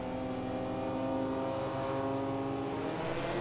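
The V12 engine of a 1960s Italian sports car in Assetto Corsa racing at Road Atlanta drones steadily at high revs, close and continuous, with no voices.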